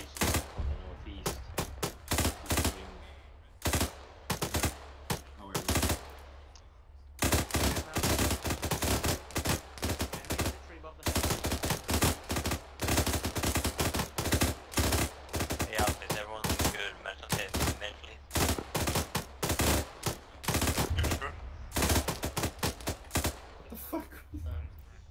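Suppressed gunfire in the combat game ArmA 3: dense, rapid bursts of clipped shots, close and loud, stretching almost continuously with only brief gaps.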